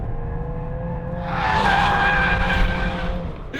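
A VW Golf R or Mercedes-AMG A45S in drift mode slides around a track, engine droning under a rising, sustained tire squeal that peaks midway and fades slightly, close and loud with no talking.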